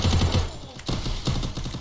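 Rapid bursts of gunfire from a mobile battle royale style video game, clustered shots in quick succession, fairly loud throughout the short moment.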